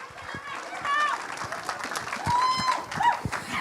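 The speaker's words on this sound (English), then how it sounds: "Give her a big hand, Coach Shoemaker." Audience at a Calvary University assembly clapping for a coach, a steady patter of applause with cheering and chatter from the crowd, fairly short.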